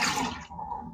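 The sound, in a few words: strained yogurt whey liquid poured out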